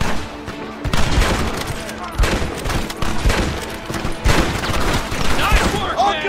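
Heavy gunfire rattles through a Red Dead Redemption battle, with dense overlapping volleys and loud shots over a continuous roar, while voices shout underneath.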